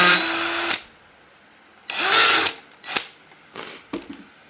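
Power drill spinning a cheap steel drill bit, lubricated with drilling fluid: a loud, steady whir for under a second, a second longer burst, then several short faint bursts, with no talking.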